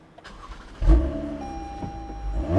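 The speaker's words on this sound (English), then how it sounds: "I'm gonna start it up." A 2020 Toyota Camry TRD Pro engine cranks and catches with a sudden loud burst, then settles into a steady, mid-pitched idle hum with a faint whine, close by and with no talking.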